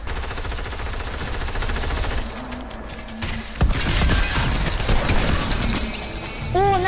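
Rapid gunfire in a shooting video game, dense bursts of automatic fire and sharp shots crackling loudly and almost without pause, with a few crashing impacts mixed in.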